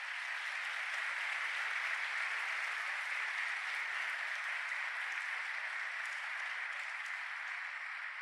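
Dense applause from a large church congregation, steady and sustained for the whole stretch without letting up, with no voices rising above it.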